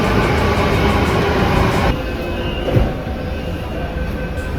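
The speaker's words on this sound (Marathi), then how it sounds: "आतली मेट्रो देखील आलेली आहे." A Mumbai Metro Line 2B train pulls in at a Mandale–Chembur station, a loud steady rumble of wheels on rails that eases as it slows, with a brief thump near the end.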